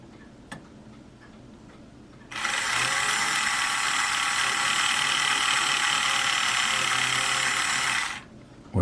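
Electric drill boring a pilot hole in a wooden model ship, a steady loud whir running about six seconds after a brief tap, then cutting off abruptly.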